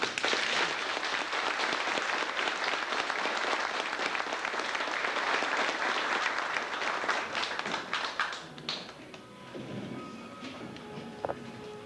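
An audience gives a thankful round of applause for a visiting doctor at a public event, dense clapping that holds strong for about eight seconds before thinning out into scattered claps and quieter room sound.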